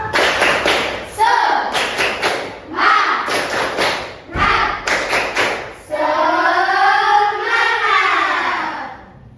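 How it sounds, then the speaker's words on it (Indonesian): A class of schoolchildren performing a rhythmic spirit clap led by their teacher: bursts of patterned claps in sets, alternating with chanted voices, ending in a drawn-out sung or shouted phrase. "sebelum belajar kita tepuk semangat dulu"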